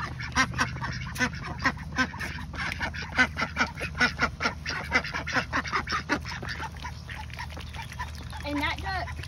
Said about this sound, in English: Well, I'm feeding my ducks.